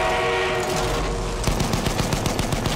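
Sustained machine gun fire from the Battlefield 1 video game rattles in a rapid, loud, close burst that grows into distinct rhythmic shots, with no voices over it.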